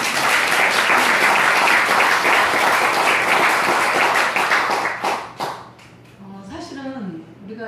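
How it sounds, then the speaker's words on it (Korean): Audience applause at a Buddhist Dharma gathering held for a military division, dense clapping from many hands for about five seconds before fading out, with a voice speaking as it dies away. "박수!"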